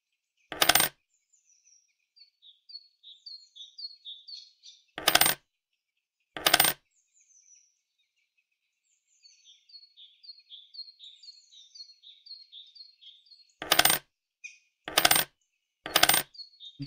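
Coins are collected in a video game, chiming in quick twinkling runs between several sharp, loud, short bursts, with quiet gaps in between.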